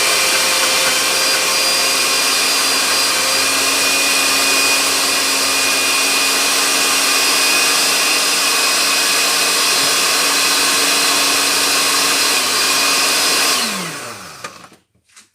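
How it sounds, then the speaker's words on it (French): Household blender mixing ginger with a little water, a loud steady motor whir running continuously for about fourteen seconds before winding down and stopping, close and alone. "Et on va mixer ceci."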